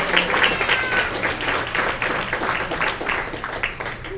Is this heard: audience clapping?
yes